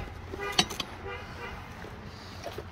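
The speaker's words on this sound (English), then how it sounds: "I don't know who that was, but they're honking at me." A car horn toots from outside at a moderate distance, with a short sharp blast near the start and a second fainter one just after, over a low hum of background noise and faint voices.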